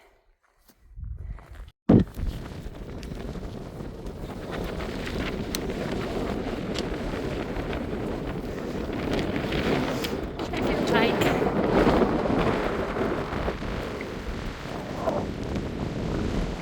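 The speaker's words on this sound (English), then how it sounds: "It's pretty windy on the summit." Strong wind buffeting a microphone on the exposed summit of Sheffield Pike in the Lake District, a loud continuous roar with gusts, a voice speaking briefly under it.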